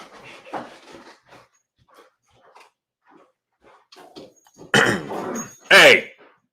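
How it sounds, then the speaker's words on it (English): Dogs fight close by, breaking out near the end in loud snarling barks and yelps after a stretch of someone talking. "somebody come get one of the dogs. They down here just fighting again."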